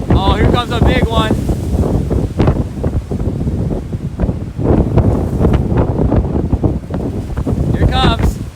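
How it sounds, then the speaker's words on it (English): Big waves crash against a lighthouse on a West Michigan lake during a December snow squall with high winds. A loud, steady roar of wind buffets the microphone over heavy surf, with brief high cries near the start and end. "Let's get a good crashing wave on the lighthouse here."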